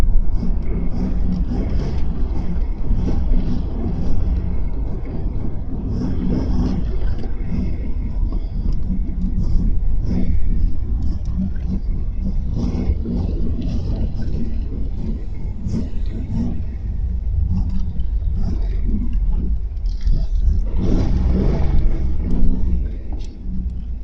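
A 1983 Camaro engine runs steadily while the car limps home on the road, a continuous low rumble with mild revving swells throughout and occasional faint voices underneath.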